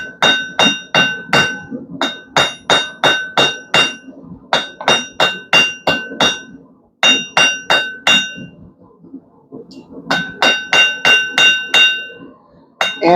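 A blacksmith hammers hot steel while tapering a hot dog fork, striking in quick bursts of ringing, metallic blows on the anvil, with short gaps between runs of strikes.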